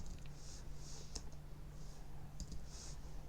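Soft clicking keystrokes on a computer keyboard, typed in short bursts with brief pauses, faint and close in a quiet room.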